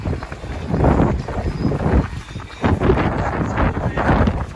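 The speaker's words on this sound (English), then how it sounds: "listening to our cameras battling the wind isn't that exciting" Strong wind buffets a camera microphone at a minor league baseball ground before a storm, giving a loud, continuous rumble that surges in gusts with no voices.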